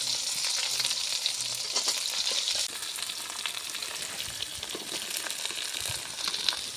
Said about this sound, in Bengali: দিয়ে দিচ্ছি কুচানো পেঁয়াজ।